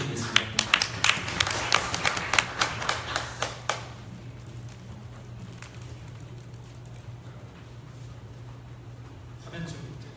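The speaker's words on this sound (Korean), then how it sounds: "한 박수 부탁드리겠습니다" A small conference audience gives brief applause for a speaker. Distinct claps ring out for a few seconds, then stop, leaving a low steady hum with faint room noise.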